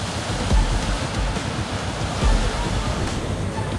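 Water gushes under strong pressure out of a borewell during drilling, a loud, steady, broad roar of rushing water that continues without a break.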